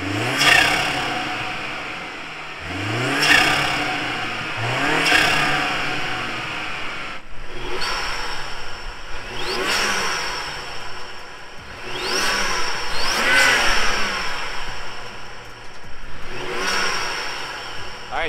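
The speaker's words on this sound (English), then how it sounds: "Always loved the sound of the N55, but the B48's intake sounds pretty crazy." BMW B48 and N55 engines fitted with BMS air intakes, revved repeatedly in a series of sharp rising and falling blips, each throttle stab followed by a quick drop back to idle, loud and close.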